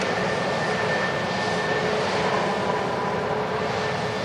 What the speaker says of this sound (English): EasyJet in from Jersey, next to land